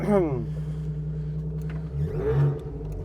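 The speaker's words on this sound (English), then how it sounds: "I love the noise this car makes." An Alfa Romeo GTV with a Busso engine and Wizard exhaust hums steadily at close range, then gives a brief rev near the end while people talk over it.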